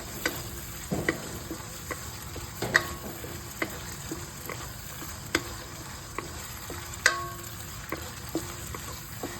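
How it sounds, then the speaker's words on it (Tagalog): Pancit palabok sauce with ground meat and fish sauce is stirred in a pan, giving a steady low sizzle broken by scattered scraping clicks of the utensil, close and without any talk. "Pagkatapos, halu-haluin lang natin siya."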